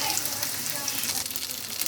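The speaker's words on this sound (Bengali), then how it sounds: "চিংড়ি মাছ আর পেঁয়াজটা আমার বাদামি কালার করে ভাজা হয়ে গেছে আমি এখন আদা রসুন বাটাটা দিয়ে দিলাম" Shrimp and onion, already browned, sizzle in a pan as ginger-garlic paste is added: a continuous, close, crackling fry with no voice over it.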